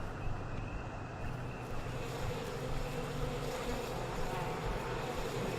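Steady, low buzzing of a swarm of bees in the video game We Happy Few, a continuous hum that holds at an even level throughout without any voices.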